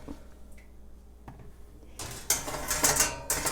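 Air fryer basket pulled from a Ninja Foodi air fryer oven, starting with faint clicks in a quiet room, then louder metallic rattles and clanks of wire and metal parts shifting.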